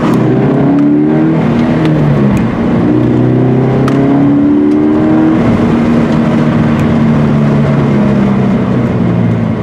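A loud Subaru BRZ engine revs and drones continuously, pitch sweeping up and down as it accelerates and lets off, close and with no talking.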